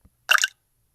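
A short splashy drip of liquid falls into a drink, one brief wet burst standing alone in silence.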